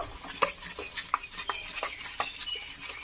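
Egg, grated raw potato and flour batter being mixed in a bowl, quick repeated scraping and tapping strokes of a utensil against the bowl in a steady rhythm, close and clear without talk.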